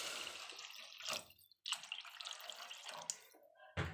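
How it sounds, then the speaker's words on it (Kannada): Water poured into a pan while making Maggi masala noodles, heard as a close, bright splashing pour with a brief pause midway and a sharp knock at the end. "ಈಗ ನಾನು ಸ್ವಲ್ಪ ನೀರು ಹಾಕ್ತಾಯಿದ್ದೀನಿ."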